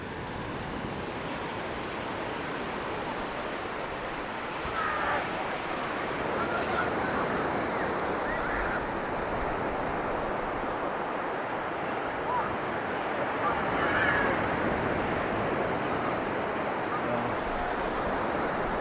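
Waves wash steadily onto a small beach at Porthminster on the north Cornish coast near St. Ives, a continuous broad surf roar with some wind buffeting the microphone, no talk.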